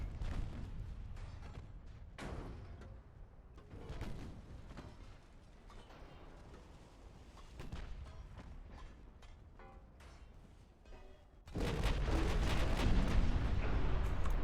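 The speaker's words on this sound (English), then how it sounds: "Very good salvo." Battleship main guns fire salvos in the Ultimate Admiral: Dreadnoughts naval video game, heavy booming reports rumbling over a low ambient bed, with a final loud sustained roar of blasts near the end.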